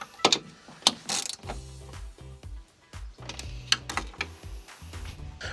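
Bolts being tightened while rebuilding a wrecked Honda Civic, with a quick run of ratchet clicks and metallic taps and clanks coming in uneven bursts close by.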